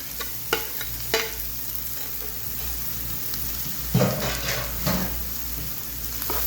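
Cabbage and diced boiled potatoes sauté in a pan, a steady close sizzle broken by a few louder scrapes and stirring knocks, with no one speaking.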